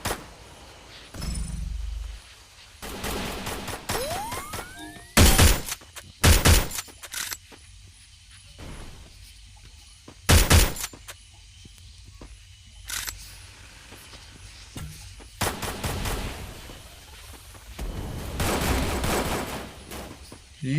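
Gunfire from the shooter video game Free Fire comes in sharp bursts and single loud shots, separated by quieter stretches with a rising whine and faint background game sounds.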